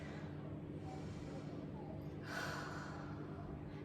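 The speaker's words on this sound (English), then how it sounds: "Take a deep breath." A slow deep breath is drawn during seated yoga relaxation, a soft airy inhale that swells briefly over a low steady hum.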